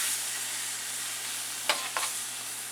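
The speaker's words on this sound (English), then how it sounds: "Those shrimp cook just a little bit more in there." Shrimp simmering in drunken noodle sauce brought up to a boil, a steady close hiss and bubble with a few brief clinks or stirs near the end.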